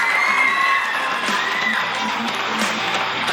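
A large crowd cheers and applauds continuously, with whoops and shouts rising over a steady roar of clapping.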